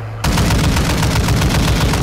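Rapid automatic gunfire in Call of Duty: Modern Warfare II, loud and close, a fast unbroken rattle of shots starting abruptly and continuing to the end.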